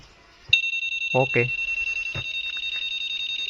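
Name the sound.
Honda motorcycle keyless anti-theft alarm sounding after tapping receiver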